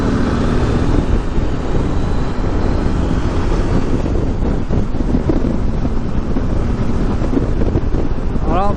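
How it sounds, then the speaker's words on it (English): Steady, loud wind buffeting on a motorcycle helmet camera, riding a Yamaha XT660Z on a highway at around 100 km/h, a constant roar with no letup and no voices. "Very windy."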